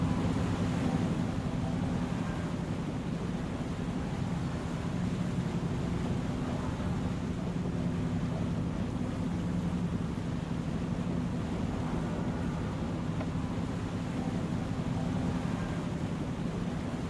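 A steady, loud engine drone with rushing wash from a ferry crossing a river in a farming video game, running continuously without pause and without talk.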